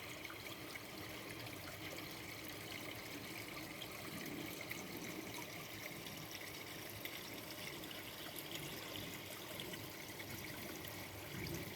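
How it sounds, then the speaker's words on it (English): Water pouring steadily into a low garden fish pond, a soft continuous trickling and splashing that stays faint and even throughout, with no voices. "Put some water in the pond."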